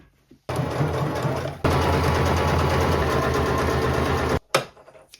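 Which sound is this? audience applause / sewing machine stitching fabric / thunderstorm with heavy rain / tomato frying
sewing machine stitching fabric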